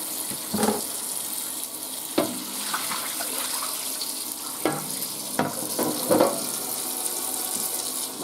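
Hot water runs from a kitchen tap into a sink while baked-on food is scrubbed off baking sheets, a steady hiss and splash broken by several sharp clunks and scrapes of utensils.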